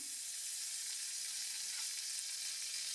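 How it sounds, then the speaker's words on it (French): Farm butter melting in a frying pan gives a steady, close hiss and crackle of sizzling, even and continuous throughout with no voices. "Une noisette de beurre dans la poêle. Du beurre fermier évidemment."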